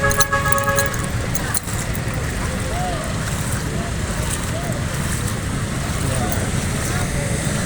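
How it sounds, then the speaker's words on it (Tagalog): A large truck drives through a flooded road, its engine rumbling continuously amid traffic noise, sloshing water and a horn toot, with a voice speaking at moments. "Malaking truck."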